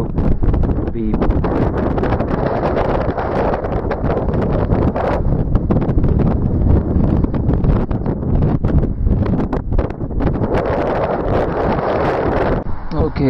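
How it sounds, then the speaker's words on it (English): Strong, steady wind buffeting the microphone on a mountain above Bantry Bay, County Cork, a constant loud roar and rumble running through the whole stretch with no voice over it. "It's getting very windy up here"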